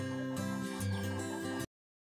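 Free-range caipira chickens cluck close by on a farm in a dense, steady chorus that cuts off abruptly.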